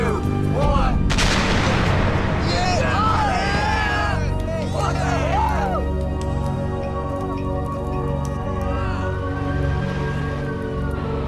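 An explosion of opened gas tanks set off by a timing device hits loudly near the start and is followed by a long rumbling roar, with crowd-like babble and crackling carrying on for several seconds.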